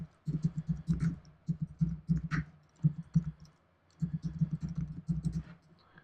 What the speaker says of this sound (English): we'll type in a different question